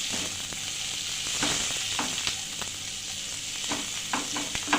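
Onion, garlic, green chili and chopped tomato fry and get stirred in a pan for egg pasta, a steady close sizzle with scraping spoon strokes breaking through at irregular moments.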